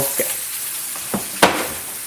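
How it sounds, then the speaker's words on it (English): Steak sizzles in its own fat in a pan with no oil, a soft continuous frying hiss with a few sharp pops and spatters, faint talk in the background. "Its own fats are gonna fry it by itself."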